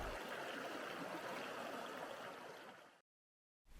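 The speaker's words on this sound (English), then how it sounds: "The Logan River is then crossed by rock hopping." The Logan River flowing over rocks at a rock-hopping crossing on a forest trail, a steady close rushing babble that fades and cuts to silence before briefly resuming.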